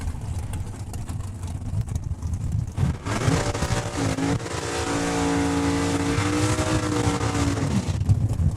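RWH Motorsports drag racing dragster heats its tires at a Saskatchewan raceway: a close, loud engine roar climbs in pitch and holds a screaming high rev for several seconds before easing off.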